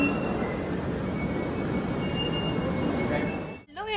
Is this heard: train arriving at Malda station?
yes